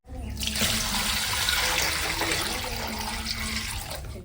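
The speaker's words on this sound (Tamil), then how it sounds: "ஏய் இவ்வளோ தண்ணி ஊற்றிட்டு இருக்கேன்" Water pours in a heavy, continuous gush into a pot for village-style spicy mutton soup in a home kitchen. It is close and loud, with a sharp onset and a steady rush lasting about four seconds.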